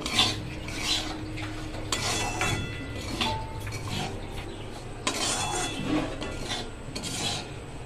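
Semolina roasting in ghee in a pan for a sweet sooji dessert, with a utensil scraping and stirring in repeated metallic strokes and light clinks, fairly close and steady, with no talk.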